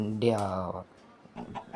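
A short burst of clucking from a Minecraft chicken, loud and close, followed by a few fainter clucks.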